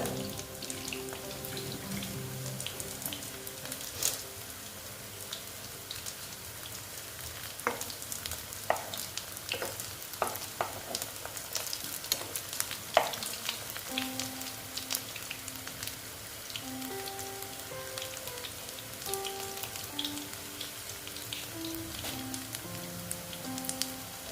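Onion-stalk pakoras frying in oil over lowered heat, a steady dense sizzle with scattered pops and crackles running throughout, fairly close, no voices.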